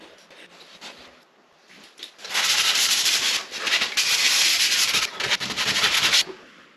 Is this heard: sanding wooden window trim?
yes